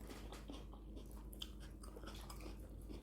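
Someone chews a mouthful of ssam, a Korean lettuce wrap, making soft, crisp bites and wet crunching up close at low volume, steady throughout with no talking.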